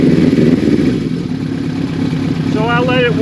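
A cold motorcycle engine idles and revs while warming up, a loud, close rumbling drone with a speaking voice over it near the end.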